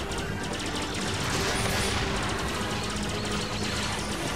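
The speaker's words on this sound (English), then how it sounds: "Alright, I'm shooting him" Blaster fire in the Star Fox Zero video game on the Wii U, a dense, steady stream of rapid shots over loud continuous game noise.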